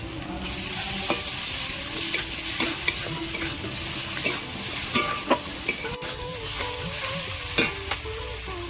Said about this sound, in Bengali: লবণ দেব রসুন বাটা দেব